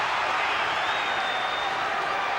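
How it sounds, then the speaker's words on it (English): A dense, continuous roar of cheering and clapping from a wrestling crowd filling a packed Wembley Arena, steady and loud throughout with a commentator's voice over it. "And the crowd standing up and going mad, this packed Wembley Arena."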